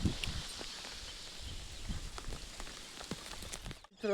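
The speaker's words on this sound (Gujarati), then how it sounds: "આ બાજુ થઈ ગયો છે વરસાદ ચાલુ" Rain falls steadily in an open rural area, a soft, even patter of drops on surfaces with scattered louder splats, fairly quiet and continuous, briefly cutting out near the end.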